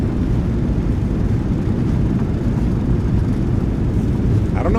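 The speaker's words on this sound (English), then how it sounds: "Reversers are out. Decelerating." Thrust reversers of a Boeing 737-800 in a flight simulator give a loud, steady, broadband engine roar that holds at constant strength, with a brief faint higher tone near the end.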